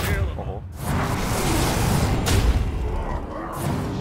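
Deep booming grenade launcher blasts and bursts in a video game roll through continuous loud noise, with gunfire-like pops and a voice talking over the chaotic action.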